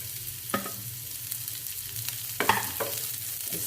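Onions frying in a pan on a stove while being stirred, soft steady sizzle with a few louder scraping stirs near the start and in the middle, no talking.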